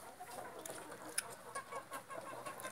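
A giant rooster with an injured leg, kept among hens, gives soft, intermittent clucks at moderate distance over faint farmyard background noise.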